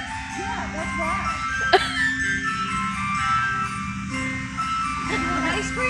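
An ice cream truck's jingle melody plays steadily from a distance along a neighborhood street, a thin repeating tune with people talking nearby over it.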